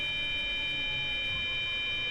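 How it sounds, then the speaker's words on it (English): A PZB emergency brake warning in Train Sim World 3 on the Rhein-Ruhr S1 line sounds as a steady, high, continuous electronic tone held without a break, over a faint low hum. "Ah, okay. Now we got the PZB Zwangsbremsung."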